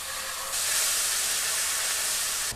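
Ginger garlic paste hits hot oil with a sudden loud, steady hissing sizzle that jumps up about half a second in and holds until the end, with no voices over it.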